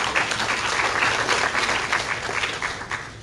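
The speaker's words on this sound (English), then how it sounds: "Please give yourselves a round of applause." Applause from attendees at a university open forum on a proposed general education plan, a dense, even wash of clapping hands sustained throughout and tapering slightly at the end.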